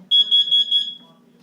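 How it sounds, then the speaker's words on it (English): A household smoke detector sounds a rapid burst of about seven shrill, high-pitched beeps, close and loud, with a low hum underneath. "What's the smoke detector going off?"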